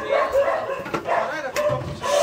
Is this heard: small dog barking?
yes